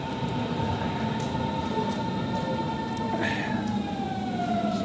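A train rumbles steadily at a station platform, a continuous loud drone with a sustained tonal whine and a brief rising squeal partway through, heard alone with no talking.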